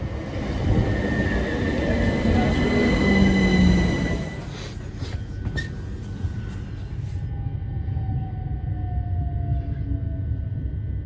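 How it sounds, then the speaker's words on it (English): A C2C commuter train pulling into platform 3 on the line from Fenchurch Street, its loud rumble and wheel squeal easing as it slows, followed by a long descending electric whine and a steady hum once it stops. "we're just going to wait here on platform 3 for our C2C train to arrive."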